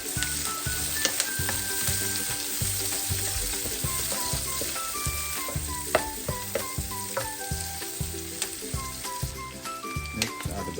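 Onion sizzling in hot oil at the start of a creamy seafood pasta, a dense, steady crackle close by, with rhythmic stirring knocks and scrapes of a spoon against the pan running underneath the whole time, no voices.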